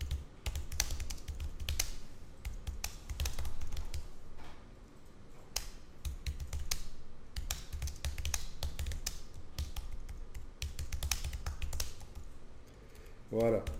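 Typing on a computer keyboard, close uneven bursts of soft key taps that come and go, with someone speaking over them.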